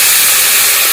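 Water poured into a hot pan for a village-style fish curry sizzles into a loud, steady, close hiss of steam, with no voices over it.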